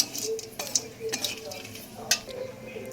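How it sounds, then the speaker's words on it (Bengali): Poppy seeds stirred lightly in a pan with whole garam masala and cumin, a spoon scraping and clinking against metal in a few sharp taps over a faint background, no talk. "পোস্তটা দিয়ে হালকা নেড়ে নেব"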